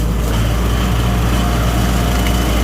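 A small grass cutter engine drones loudly and continuously up close while mowing over uneven ground, a buzzing, straining motor hum with no pauses.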